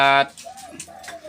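A caged decoy bird gives a short run of soft, rounded coos at close range after a brief harsh burst at the start.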